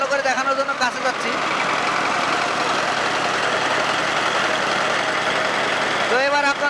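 An auto mini rice mill runs at high speed processing paddy, giving a loud, close, continuous mechanical roar and hum, with brief bursts of nearby talk at the start and end.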